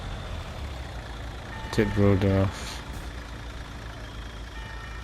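Scania tipper truck in Construction Simulator giving a short burst of loud reversing beeps, several evenly spaced tones over a low engine rumble, with someone talking nearby.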